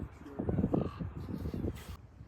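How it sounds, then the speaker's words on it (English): Several harsh crow caws, somewhat distant, near nesting crows with babies by old boats, over a rustling outdoor background, ending with a brief burst of noise. "I hear a crow. Baby crows."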